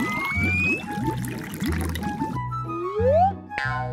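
Hot water poured while making chocolate, a trickling pour with bubbly gurgles, then a sliding whistle-like tone and a short bright clink, close and fairly loud.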